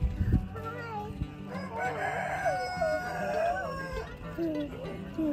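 A rooster crows with drawn-out, wavering calls amid clucking chickens, fairly close and loud, with people talking faintly in the background.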